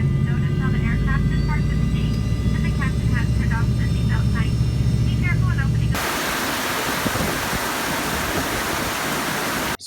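Steady loud airplane engine roar from inside the cabin, a continuous broadband drone with faint tonal whine, the character shifting abruptly partway through.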